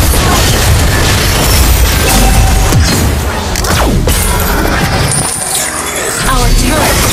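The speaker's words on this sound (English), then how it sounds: "Your team destroyed a turret." Mobile Legends match audio with a loud, dense game mix of booms, bursts and effects around a turret being destroyed, continuous and heavy throughout.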